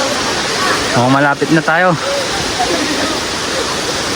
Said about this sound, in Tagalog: aririnig ko na yung falls